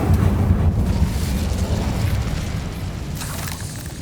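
Incendio, a fire spell in Hogwarts Legacy, erupts as a loud, steady roaring blast with deep booming rumble that holds for several seconds before slowly easing off.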